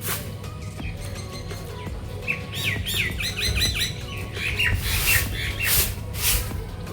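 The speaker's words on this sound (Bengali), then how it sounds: "ছাদে আসলে প্রচুর পাখির ডাক শোনা যায়" Many birds chirping and squawking around a rooftop among nearby trees, a lively overlapping chorus of bright calls that grows busier midway, with steady background hum and no talk.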